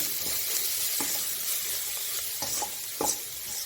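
Methi and peanut sabji stirred in a hot pan with salt and turmeric: a continuous bright sizzle with several soft scraping strokes of a spatula, close up and steady.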